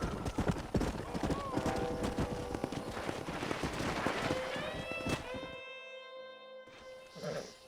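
Horse hooves clip-clop in the Red Dead Redemption video game, a steady rhythm of hoofbeats amid Western game sounds, followed by a tonal musical sting and a brief pause.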